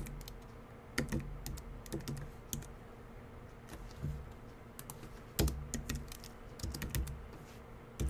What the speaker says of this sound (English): let's start typing a very, very basic word, let's say printer.